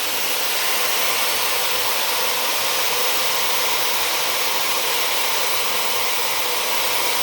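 A Dyson hair dryer with diffuser attached runs at its highest power, a steady loud airy whoosh close by, unbroken from start to finish.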